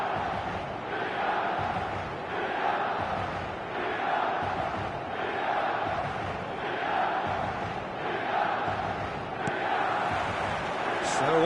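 A large stadium crowd roars and chants continuously in the eFootball soccer game, a dense, steady wall of cheering with rhythmic swells, heard from a distance under the match atmosphere.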